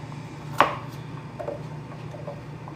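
A knife slices through a carrot on a cutting board with one sharp, close chop, followed by a few softer taps against the board in a quiet kitchen.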